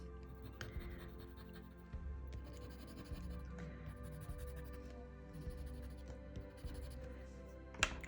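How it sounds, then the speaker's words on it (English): A white colored pencil scratches steadily across paper as highlights are added to flower petals, a soft continuous close scraping over a low background hum. "I will add a little bit of the white highlight with my white pencil to the opposite side of each petal"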